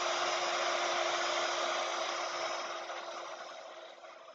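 A heat tool blows steadily while melting embossing powder on an art stamp impression in a journal, a constant close whirring hiss that eases slightly toward the end.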